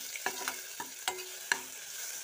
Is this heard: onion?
yes